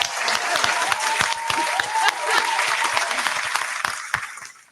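Audience applause at a live podcast taping, a dense steady wash of clapping from a crowd that holds for several seconds, with a voice briefly rising over it, before tapering off at the end.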